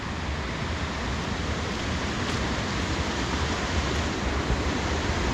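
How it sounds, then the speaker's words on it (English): A raging river rushes beneath a large bridge on a forested hiking trail near Issaquah, Washington, a dense, steady roar of water that fills the whole clip with no voices. "here's a gigantic bridge and a raging river,"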